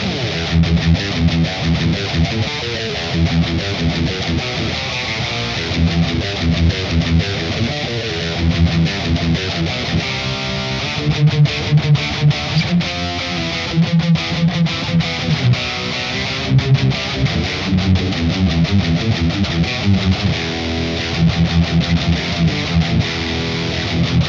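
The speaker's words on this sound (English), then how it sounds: "That chun chun chun, that chuggy sound that you heard, all that is just palm muting." Tight, chugging palm-muted electric guitar riff in a metal style, with muted, percussive low notes repeating steadily, loud and distorted, with no voices.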